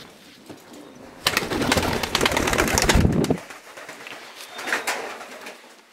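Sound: racing pigeon cooing

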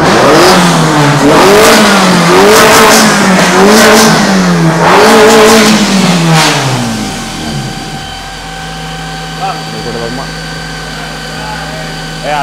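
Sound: modified Toyota Corolla engine revving

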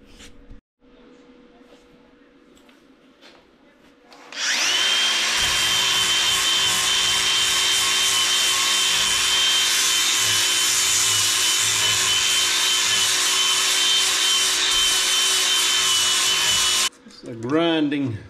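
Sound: sanding old wooden window frame

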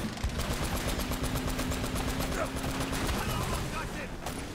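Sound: jeep-mounted gun firing in video game Uncharted: Drake's Fortune

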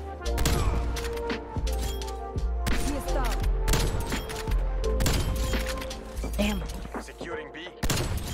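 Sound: sniper rifle gunfire in a video game Snipers Only mode

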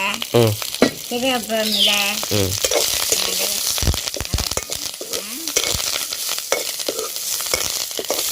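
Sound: mustard seeds, fennel and onion frying in oil

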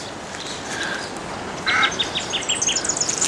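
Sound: ibises calling

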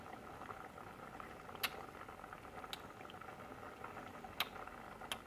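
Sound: winter melon and boiled egg clear soup boiling in a pot

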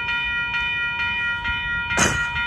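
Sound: Amtrak Capital Corridor train passing a railroad crossing

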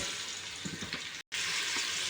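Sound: onion frying in oil in a pot

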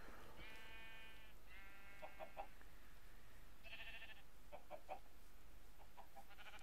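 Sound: sheep bleating in the Minecraft video game

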